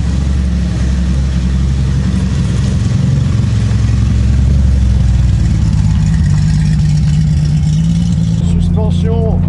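A Porsche pulling away, its loud, steady engine note droning close and continuous throughout, with a brief faint voice near the end.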